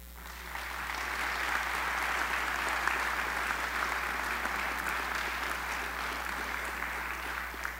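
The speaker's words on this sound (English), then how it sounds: "Please give them a round of applause for our leaders of Polonia." An audience at a Pulaski Day celebration applauds leaders of Polonia, a sustained, even round of clapping from a large crowd in a hall, steady for several seconds before easing slightly.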